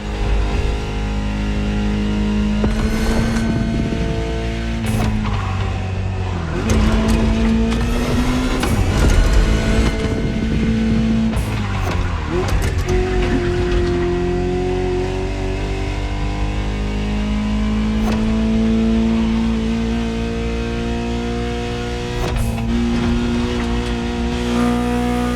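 A high-revving Ferrari supercar engine in the video game The Crew Motorfest climbs through the gears, shifting repeatedly with sharp pops between pulls, loud and continuous for about half a minute.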